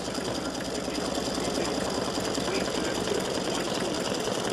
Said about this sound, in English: it's doing the satin stitching around the nose right now